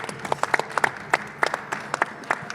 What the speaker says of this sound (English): Can we clap for that story?